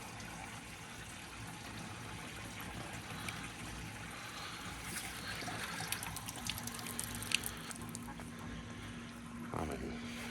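Water from a pond pump running down a pipe back into a garden pond, a steady close trickle and splash, faint and continuous, with a voice talking over it.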